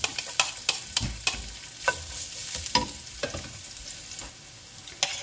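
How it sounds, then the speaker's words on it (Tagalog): Garlic sautés in oil left from frying, with a soft sizzle under repeated sharp spatula taps and scrapes against the pan at an irregular pace. "Dito natin igigisa yung ating garlic."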